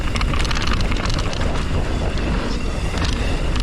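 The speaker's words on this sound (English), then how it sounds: "I feel the wind. Hear the camera rattle." Heavy wind buffets the microphone while mountain biking down a wooden trail, with the camera rattling on the bike: a loud, constant rushing roar mixed with fast clattering, and no talk.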